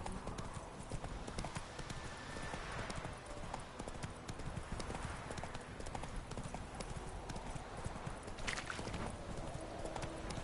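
Hooves clip-clop in a quick steady rhythm as a horse is ridden in The Witcher 3, with faint voices now and then over the continuous hoofbeats.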